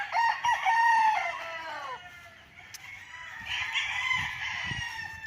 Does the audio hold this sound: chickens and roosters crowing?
yes